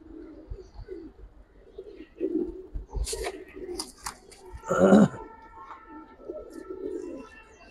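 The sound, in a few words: pigeons cooing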